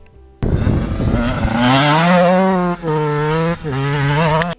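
A KTM 125 EXC enduro motorcycle engine starts abruptly and revs up loud and close, rising in pitch, with two brief dips as the throttle is rolled back.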